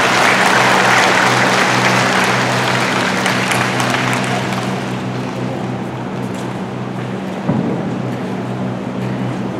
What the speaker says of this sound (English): let us now join our hands and give them a round of applause